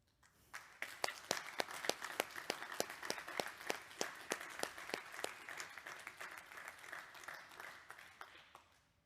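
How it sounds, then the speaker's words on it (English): An audience applauds at an honours festival talk, a room full of dense, steady clapping with a few louder individual claps standing out, sustained for several seconds before gradually thinning. "A big applause."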